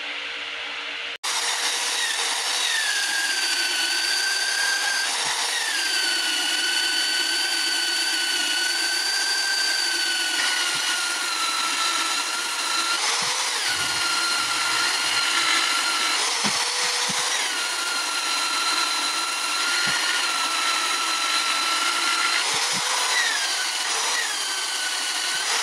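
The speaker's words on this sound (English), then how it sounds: "But anyway, start sanding." Power sander working over a large wooden bowl, a steady loud whine with shifting pitch as pressure and position change, running continuously after a brief start and ending with a few small dips.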